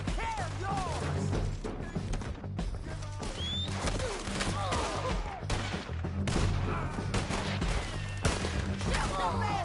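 Gunfire in Red Dead Redemption 2: a dense, continuous firefight of overlapping shots and crashes, with shouting voices mixed throughout.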